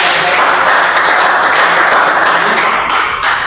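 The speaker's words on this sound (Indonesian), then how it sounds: "Tepuk tangan dulu untuk mengakhiri." Schoolchildren clapping hands at the end of a physical education and health lesson, a dense, loud, continuous patter of many small hands, close and sustained, with some voices mixed in.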